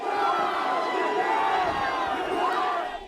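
A dense crowd of protesters in Sydney clashing with police, a loud continuous roar of many shouting voices close by, with no break across the moment.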